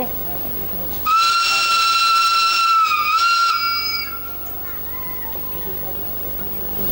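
A steam train's whistle blows one long, loud, steady blast of about three seconds, then trails off into a lingering hiss and quieter ambient noise.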